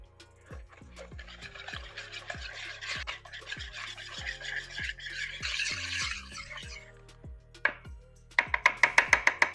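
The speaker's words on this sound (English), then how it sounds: "we will take our whisk and we will whisk all of the ingredients together" A whisk beats oatmeal bake ingredients in a bowl with steady, evenly spaced knocks against the bowl under a soft wet scratching. Toward the end the strokes turn into a quicker, sharper metallic clatter. Close and fairly quiet, with no speech.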